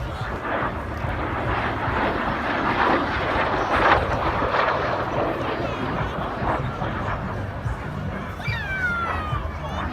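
A MiG-15 jet roars past at an air show, a loud, broad continuous engine rush that swells and lingers, with faint crowd and voices around it.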